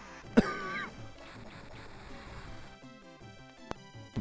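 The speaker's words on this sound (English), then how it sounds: "Again, I apologize for the coughing." A person with a dry throat coughs sharply and loudly once near the start, followed by a fainter cough or throat catch later, both set against quiet arcade game music.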